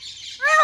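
Bird calls ring out close by: a hissy, noisy squawk runs for about half the burst, then a louder harmonic cry follows, fitting parrots calling together in Tadoba forest.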